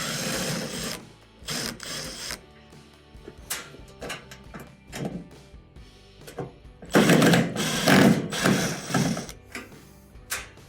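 A power driver backs out Phillips screws from the front of a GE washing machine top panel: repeated whirring bursts of a motor and ratcheting clicks, close and fairly loud, with short pauses between screws.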